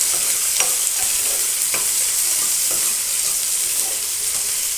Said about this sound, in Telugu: కట్ చేసి పెట్టిన ఉల్లిపాయలు, పచ్చిమిర్చి ఒకసారి మిక్స్ చేసుకుందాం